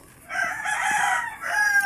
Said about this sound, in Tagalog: Sobrang ingay talaga ng manok.